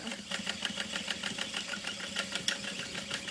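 A sewing machine stitches across backpack handle straps, a steady rapid mechanical clatter of needle strokes running continuously at close range with a low motor hum beneath.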